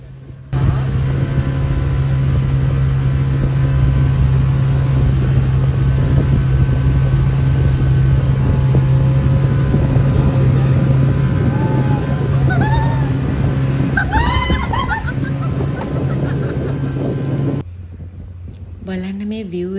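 Boat engine droning steadily on a water ride across a lake, loud wind buffeting the microphone throughout and voices talking over it, the motor cutting off near the end.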